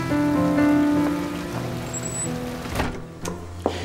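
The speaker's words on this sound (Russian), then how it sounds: "Холодно же, дождь идет." Steady rain falls outdoors on a cold day, a continuous dense wash of drops with a few sharper spatters near the end.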